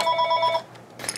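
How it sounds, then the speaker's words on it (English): Telephone rings indoors: a short electronic warbling ring, loud and close, that breaks off after about half a second and is followed by a brief rustle. "before the phone rudely interrupted"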